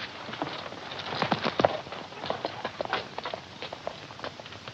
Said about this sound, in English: You and the boys get our horses and bring them around here.